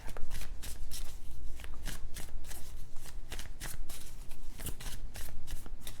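Tarot cards are shuffled steadily and close up in a quiet room, a continuous run of crisp riffling and flicking bursts with no talking.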